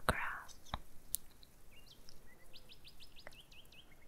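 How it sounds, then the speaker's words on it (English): Bird song in trees, used as a sound effect: short chirps and a rapid run of repeated tweets, fairly faint, with a few brief clicks and whispery sounds in between. "birds in the trees singing their tunes that only free birds can sing."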